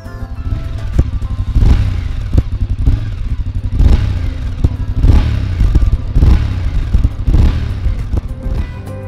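A BMW F 850 GS motorcycle with a titanium-coated exhaust revs loudly and close by, with several sharp throttle blips rising and falling over a steady idle rumble.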